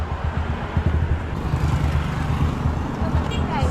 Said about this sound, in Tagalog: ang daming sasakyan di tayo makatawid